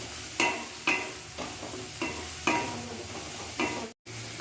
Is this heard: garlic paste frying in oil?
yes